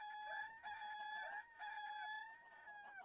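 Roosters in a modded Minecraft multiplayer survival game crow repeatedly, with bright, drawn-out calls coming back to back at a steady rhythm at modest volume and no talk over them.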